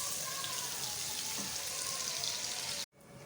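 Onions frying in a pan toward golden brown, a steady close hiss and crackle of sizzling oil running continuously before cutting off abruptly near the end.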